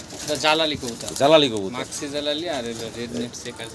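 Pigeons coo close by in several soft, throaty rolling calls, one after another with short pauses.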